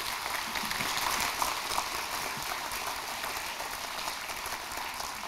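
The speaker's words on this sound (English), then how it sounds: "let us give all of these artists a round of applause" Steady, sustained applause from a crowd, dense clapping that stays loud and even throughout without pause.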